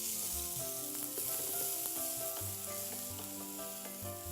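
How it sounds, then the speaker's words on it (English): Chopped onions sizzling in a pan, a faint steady frying hiss that sits under a bed of sustained tonal music throughout, with no talk. "I'm going to lightly brown these onions"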